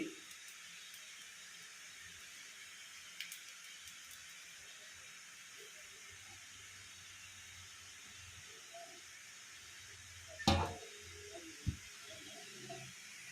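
Murukulu dough frying in hot oil gives a faint, steady sizzling hiss throughout, with a couple of brief louder clatters near the end.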